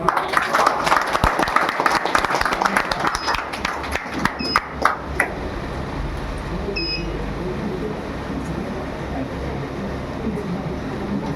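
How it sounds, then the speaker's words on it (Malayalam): Applause from a crowd at a school reunion as teachers are invited onto the stage, loud and dense at first, then thinning out after about five seconds into a murmur of crowd noise. "എല്ലാവരും ക്ലാപ്പ് ചെയ്തോളൂ."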